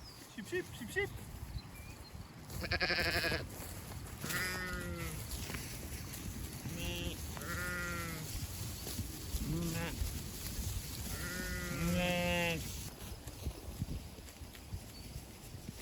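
A flock of sheep being moved to fresh pasture inside electric netting bleats in several drawn-out calls, some near and some farther off, against a quiet outdoor background with soft rustling.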